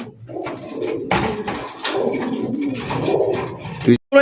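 Male pigeons coo repeatedly in a loft, a dense overlapping chorus of low rolling calls from several birds close by, with a brief break near the end.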